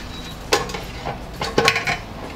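Okra pieces rattling in an air fryer basket as it is shaken, giving two short clattering bursts about a second apart over a steady background hum.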